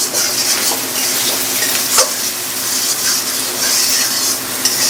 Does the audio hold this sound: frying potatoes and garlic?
yes